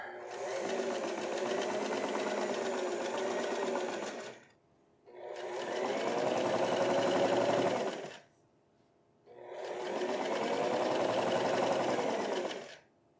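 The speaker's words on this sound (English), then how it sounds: "And then finally, I'm quilting it all down." A sewing machine quilts down a vest in three long bursts of rapid stitching, each about three to four seconds, separated by short silent pauses.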